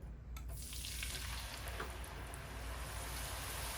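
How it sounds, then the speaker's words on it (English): Chicken pieces pre-frying in oil at 325 degrees, a loud dense bubbling sizzle that swells right after the food goes in and then holds steady. "And I'm pre-frying it at 325. See how all that bubbling is coming up?"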